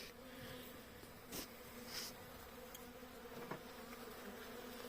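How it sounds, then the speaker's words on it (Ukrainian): Steady, dense buzzing of many honeybees close by at a hive after winter, continuous throughout with a few louder passes of individual bees. "Огляд бджол після зимовки."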